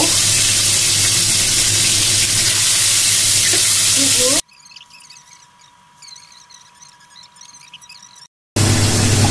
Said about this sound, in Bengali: দেখুন গজার মাছটা আজকে রান্না করবো, একটু ভেজে নেব।